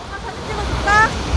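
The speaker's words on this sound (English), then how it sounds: "having this really cool, like, waterfall here" A park waterfall on a walking tour of Citizens Park gives a steady, close rush of falling water, swelling slightly midway, with faint voices mixed in.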